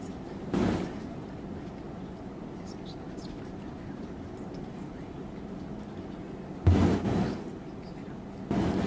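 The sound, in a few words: banging and fireworks heard during trial recording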